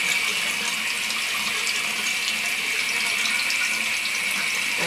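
Tap water runs steadily into a sink during a hair routine, a close, constant hiss that continues alone for the whole stretch.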